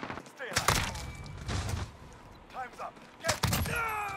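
AK-47 fire in a shooting video game, a handful of sharp, loud single shots spaced irregularly with short ringing tails, mixed with game effects and a player talking between bursts.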